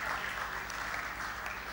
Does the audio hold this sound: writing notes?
no